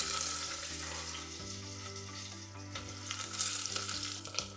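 Onions and cashews sizzle in a hot pan for a tofu pulao, a busy, close frying crackle with low pan hum and a few scraping stirs, no talking.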